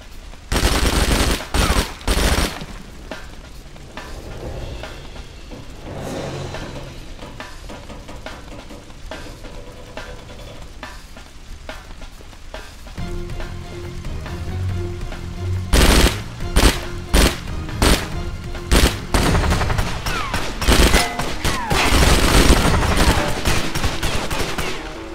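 Rapid bursts of gunfire in the video game Wheelman, loud and sustained, with repeated automatic volleys and sharp shots across the whole stretch.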